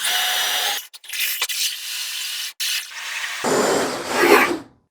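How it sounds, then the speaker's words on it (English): A hole saw bites into a door being fitted in an existing frame, producing a coarse, close grinding rasp broken by a few short stops, growing rougher near the end before cutting out to silence. "now that comes with 2 hole saws here. But let's go ahead and cut the first one."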